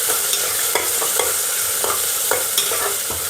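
Tomato masala stirred in a frying pan over a constant loud sizzle, with a spoon scraping and tapping against the pan in an irregular rhythm and nobody speaking.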